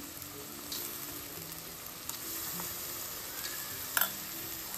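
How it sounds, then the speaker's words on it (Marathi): Onion-tomato paste frying in oil for a fish curry, a faint steady sizzle with light stirring scrapes and one sharper clink near the end. "आता टमाटर, कांदा आणि टमाटरची पेस्ट टाकणार आहे यामध्ये मी"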